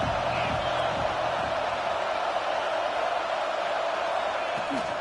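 A virtual stadium crowd roars steadily through a red zone third-down play in the College Football 26 video game, a dense, loud wash of cheering that holds at a constant level with no talk over it.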